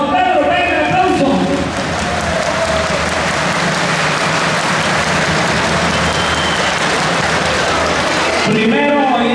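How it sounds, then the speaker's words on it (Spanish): Jaripeo contest crowd in Chicago bursting into loud, sustained applause and cheering that fills most of the clip, with an announcer's voice before and after. "Que el primer lugar es para Rancho San Pedro, venga el aplauso."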